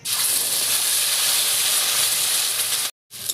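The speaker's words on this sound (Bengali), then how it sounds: "তেলটা গরম হয়ে গেছে পেঁয়াজ বাটাটা দিয়ে দিচ্ছি" Onion paste dropped into hot oil left from frying fish, for coconut prawn curry, giving a loud, steady, close hiss of sizzling that cuts off abruptly near the end and then resumes.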